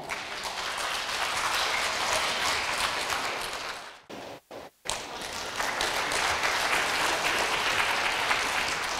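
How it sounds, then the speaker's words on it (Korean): Applause from an audience at an anniversary charity event welcoming a club's senior vice president, dense steady clapping with a brief break midway before resuming just as strongly. "박수로 모셔주시기 바랍니다."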